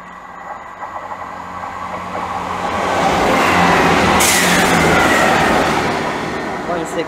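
A steam locomotive, number 5036, passes close by at Seer Green with a rising, broad roar that peaks midway and fades. A sharp burst of hissing steam cuts through at the loudest moment.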